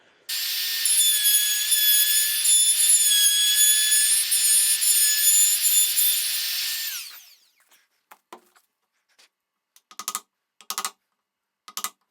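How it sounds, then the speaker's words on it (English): A power router cutting the latch recess into a wooden door gives a loud, close, high whine for about seven seconds, then winds down, followed by scattered light knocks and clicks. "So I'm going to use the router again, because that'll give me a nice consistent depth"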